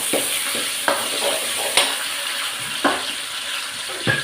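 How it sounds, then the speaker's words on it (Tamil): Onions and curry leaves sizzle in a hot pan, with a spoon scraping and stirring every second or so over the steady frying hiss. "வதக்கிடுறேன்."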